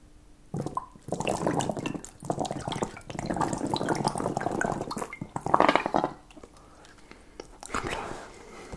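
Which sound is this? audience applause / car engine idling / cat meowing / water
water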